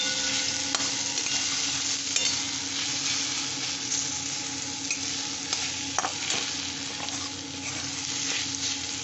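Turmeric, Kashmiri chili and coriander powder being stirred in a frying pan for stuffed brinjal curry, a steady close sizzle running throughout with occasional scrapes of the spoon, no talking.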